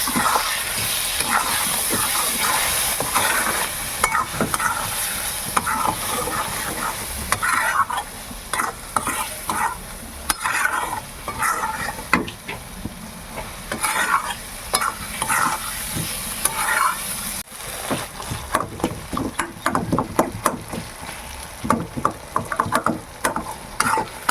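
Yam and fish curry with turmeric and Kashmiri chilli sizzles steadily in a pan while a spatula scrapes and stirs it in repeated strokes, close and continuous.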